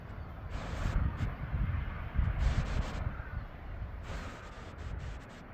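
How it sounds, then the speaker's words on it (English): Wind blows outdoors beside a garden pond of koi and goldfish, a steady rumbling roar that buffets the microphone and swells in gusts throughout. "it's a bit windy today, so I'm sorry for that"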